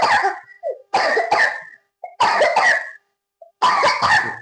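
A child coughs repeatedly while being fed, in four loud, close bursts of two or three harsh coughs each, separated by short silences and small throaty sounds.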